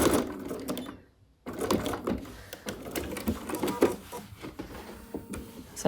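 A sewing machine stitches raw edge applique on a sunflower pillowcase in short, uneven bursts of rapid needle clatter, with a brief pause near the start and fabric handling between runs.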